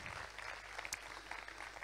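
An audience at a comedy show applauds, a faint, steady patter of clapping heard from a distance throughout.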